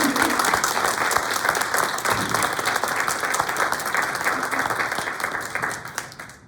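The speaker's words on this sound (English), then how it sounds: "can you give a heartfelt applause?" A large audience at an interreligious panel breaks into sustained, dense applause that holds steady for several seconds and then begins to taper off toward the end.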